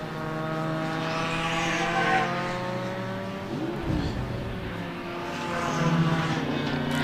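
Corvette race cars in a long 15-lap Group S sports car race roar steadily around the track, loud throughout, with one car sweeping past close by near the middle.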